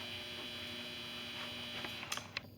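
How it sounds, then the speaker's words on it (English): A clothes dryer buzzes in the background as a steady, faint electrical hum, continuous and alone, with a couple of small knocks near the end. "And my dryer is buzzing, so that's what you hear."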